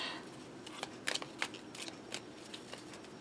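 A deck of cards, used for a nine-card reading with Kipper-style cards, is shuffled in a quiet room, giving soft, scattered riffles and light clicks in irregular short bursts, close and fairly faint.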